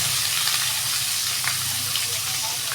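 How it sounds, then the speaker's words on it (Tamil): Crushed onion and garlic with cumin, fennel and curry leaves sauté in hot oil for a village-style sardine curry, giving a steady, close, even sizzle throughout with no pauses. "இது நல்லா வதக்கி எடுத்துக்கலாம்."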